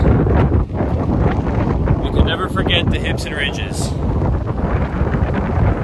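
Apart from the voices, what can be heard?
wind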